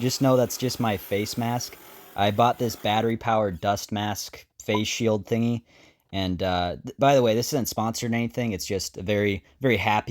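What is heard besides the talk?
No distinct noise like a dog, phone or traffic.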